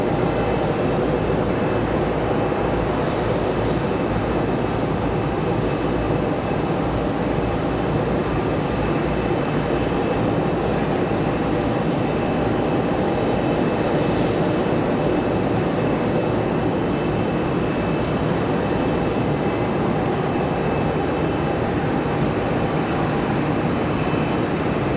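ATR turboprop airliner at Raleigh-Durham airport, a continuous loud broadband engine drone with a steady high propeller whine, sustained without pause and no voices.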